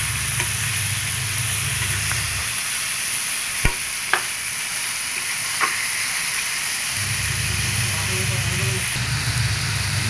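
Onion and tomato frying in a pan for a spicy chicken dish, a steady close sizzle with stirring scrapes and a few sharp utensil clinks, a low hum coming and going underneath.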